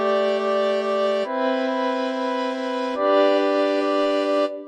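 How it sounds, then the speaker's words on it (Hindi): Steady sustained tones pass through FL Studio's Fruity Reverb 2 with the low cut fully applied, giving a cleaner, thinner reverb. Three held notes step in pitch in turn with no voices. "जब मैंने लो कट को फुल कर दिया तो कितना क्लीन हो गया, क्योंकि लो एंड का जो रिवर्ब है वो कट हो गया एकदम ही।"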